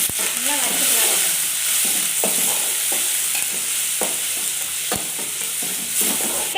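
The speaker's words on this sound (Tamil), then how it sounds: "நல்லா வறுத்துக்கலாங்க." Tomatoes with ginger garlic paste and onions fry in hot oil in a pan, giving a steady, close sizzle, with occasional stirring scrapes and clinks of a spoon against the pan.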